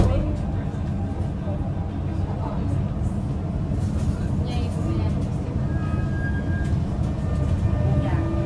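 Dubai Metro train running, a steady low rumble and rolling rail noise filling the whole stretch at constant loudness, with faint voices or announcements underneath.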